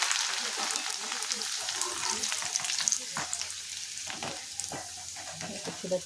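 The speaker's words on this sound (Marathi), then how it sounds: "थोडंसं मक्याची पोळी तळून टाकणार आहे चिड्यामध्ये" Corn flakes fry in hot oil for Diwali chivda, giving a steady, close sizzle with stirring scrapes and faint clinks throughout.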